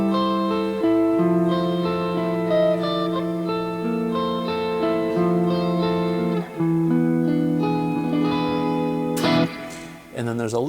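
Electric guitar plays the slow intro of a song, sustained ringing notes in a gentle melodic line, close and clear, ending with a short noisy strum or scrape.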